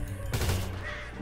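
Gunfire in the video game GTA 5, a sudden loud burst of shots that breaks in partway through and rings into a dense, noisy decay, with a voice faintly beneath.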